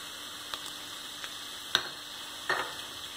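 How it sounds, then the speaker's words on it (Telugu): Ginger garlic paste and spices frying in oil give a steady, fairly quiet sizzle with a few soft stirring clicks spaced through it. "వేగిపోయిందండి అల్లం వెల్లుల్లి పేస్ట్ కూడా"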